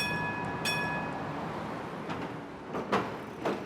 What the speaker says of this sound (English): the sound of the urban tram system